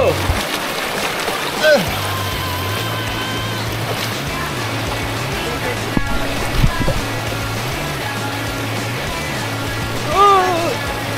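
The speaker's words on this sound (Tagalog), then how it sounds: "Ang lakas ng agos sa dadala!" Strong rushing current at Kubli Falls in Dolores, Quezon, a continuous loud roar of churning water close by, with people shouting and talking over it throughout.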